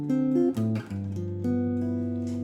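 A short diminished-chord turnaround used in place of a tritone substitution on the flat third, played as sustained chords that shift every half second or so, steady and fairly loud with no talking.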